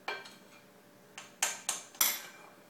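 A tablespoon clinks and taps several times against a donut maker while batter is spooned into each donut hole, sounding close, light and sharp, with short gaps between the knocks and no talking.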